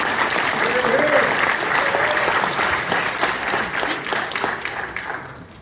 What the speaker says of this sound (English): give yourselves a heartfelt round of applause for being here